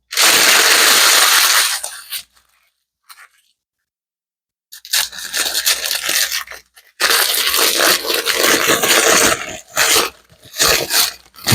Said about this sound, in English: Take your parchment, and we're going to crinkle it up.